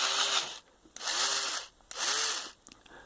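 A power drill runs in reverse to back a screw out, in three bursts of whirring with brief pauses between them, close and fairly loud with no talking.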